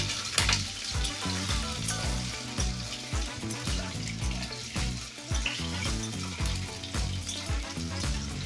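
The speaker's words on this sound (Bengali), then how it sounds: "আলুটাকে ভালো করে ধুয়ে নেওয়ার পর কড়াই দিয়ে দিলাম আর দিয়ে এটাকে নাড়াচাড়া করে হালকা ভেজে নেব" Potatoes sizzle and crackle as they are stir-fried in a hot wok, with rhythmic background music playing throughout.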